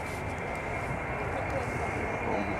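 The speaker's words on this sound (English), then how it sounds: "Is it a jet or is it? Yeah, it's a jet. It's so loud." An Avro Vulcan bomber's jet engines roar during takeoff at the Farnborough air show, a steady, dense, unbroken wash of engine noise heard from a distance.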